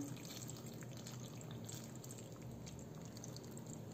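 Water is poured into a tall cooking pot over stuffed vine leaves in tomato sauce, making a soft, continuous splashing trickle close by with no speech.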